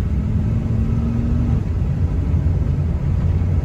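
A 1997 Dodge Ram pickup with a V10 engine driving, a steady loud low rumble of engine and road noise heard close from inside the truck, with a faint whine at the start.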